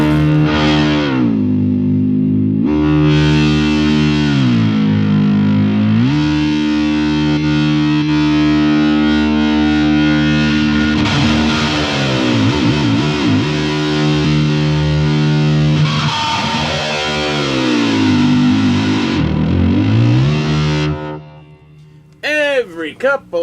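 EVH Striped Series electric guitar played through heavy distortion, with long sustained wailing notes, pitch bends and whammy-bar dives, loud and continuous before a few short closing hits.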